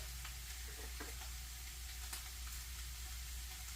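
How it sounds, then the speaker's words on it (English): Meat and spices fry in a pan for chili with a constant, quiet sizzle and crackle, with a few faint scrapes of stirring and no voices. "so I need to cook the spices with the meat"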